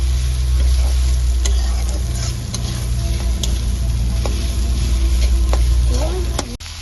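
Chicken frying in a pan with biryani masala for a crispy chicken sandwich gives a steady, loud sizzle throughout, broken by occasional scraping clicks of stirring.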